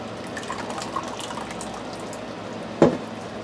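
Liquid soap batter poured out of a big bucket during soapmaking, a soft continuous wet trickle with small drips and one sharper splash near the end, close and without talk.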